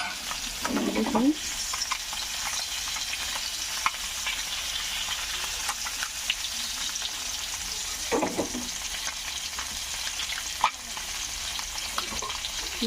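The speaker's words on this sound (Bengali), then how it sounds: "সয়াবিন ভাজা হইতেছে" Soya chunks frying in a pan in a village home kitchen, a steady bright sizzle throughout with occasional stirring scrapes and clinks, and a brief voice once.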